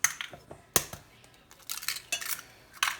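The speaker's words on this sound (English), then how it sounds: "Cracking in the 2 eggs." Two eggs cracked into a bowl while making keto cornbread, heard as a few sharp clicks and taps of shell against the bowl, followed by soft kitchen clatter close by.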